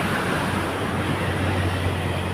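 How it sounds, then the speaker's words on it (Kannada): Ocean waves wash steadily onto a Kerala shore as a dense, unbroken hiss of surf, with a faint low hum beneath it and no voices. "ಅಲೆಗಳು ನೋಡಿ ಬರ್ತಾ ಇದೆ."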